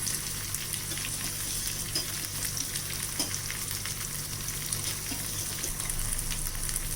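Curry leaves fry in hot oil with a steady, close crackling sizzle and occasional stirring sounds throughout.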